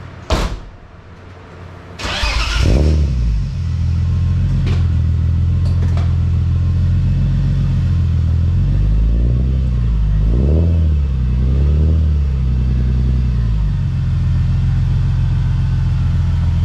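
A BMW M3 engine fitted with new headers starts with a sharp clunk and settles into a loud, deep, rumbling idle, with a few blips of revving that rise and fall near the end.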